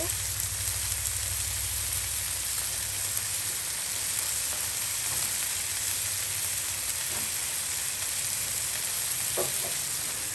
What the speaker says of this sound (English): Sizzling away.